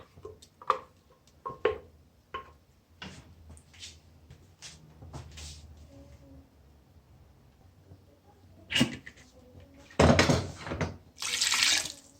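Water poured into a pot of yogurt chicken to rinse ground masala in, with short splashes and trickles, a clatter of the pot, and a louder gush of pouring near the end.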